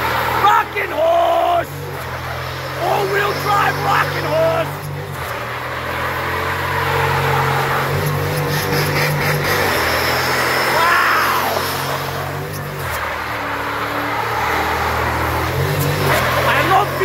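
A Jeep Cherokee with a V8 and all-wheel drive roars through hard revs and neutral-drop launches, the engine loud and close with rising and falling surges, while excited voices shout over it.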